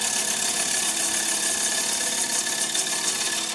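Wood lathe spinning a workpiece for a sword while a chisel cuts the corner off, a loud continuous whirring hiss with steady grinding texture, up close.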